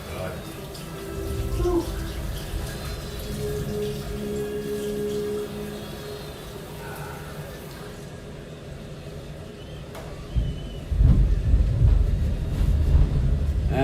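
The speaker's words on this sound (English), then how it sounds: "And don't worry about the thunder you may hear." Thunder rolls in as a deep, loud rumble near the end, heard indoors under someone talking through a Strat-O-Matic baseball game replay.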